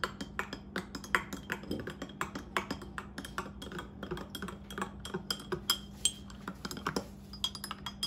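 A spoon stirs Vietnamese egg coffee in a glass, producing a steady run of quick, light clinks against the glass, close and fairly quiet, with no talking.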